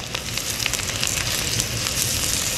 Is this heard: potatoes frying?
yes